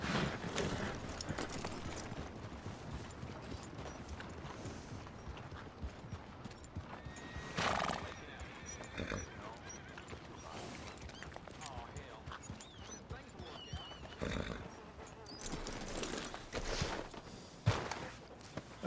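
Horses whinny and hooves clop around a stable in Red Dead Redemption 2, with neighs rising loudly at several moments over a steady bed of game ambience and voices talking.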